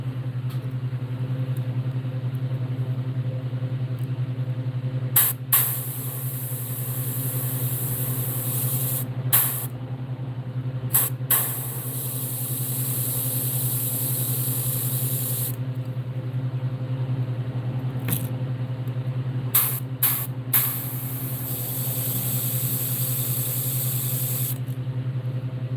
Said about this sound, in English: I'm gonna spray the rest of this out of here because too much actually came out.